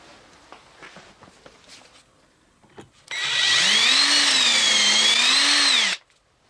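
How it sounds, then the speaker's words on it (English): A power drill bores a dowel hole through a doweling jig into a piece of wooden stock, a loud steady whine lasting about three seconds whose pitch wavers slightly, preceded by quiet handling clicks. "we've got to line up the third one as well and drill that"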